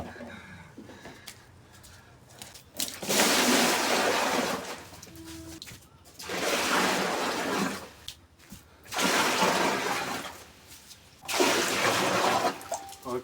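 Water fills a container in loud gushing bursts, four pours separated by short pauses, close by with a little background noise between them.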